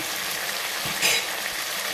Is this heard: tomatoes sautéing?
yes